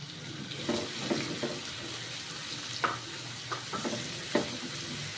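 Finely chopped onion frying in a pan while a recipe for stuffed capsicum curry is cooked, with a steady soft sizzle under scattered sharp scrapes and clinks of stirring, close and moderately quiet.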